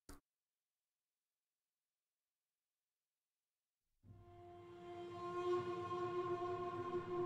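Passenger train in the Railway Empire video game starts up after a few seconds of silence, then runs with a steady rumble and tonal hum that grows louder, with no talk over it.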